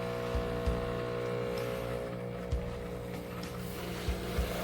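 A Nespresso Vertuo Evoluo coffee machine by De'Longhi brews espresso with a loud, steady mechanical whir and hum, broken by several dull periodic thumps.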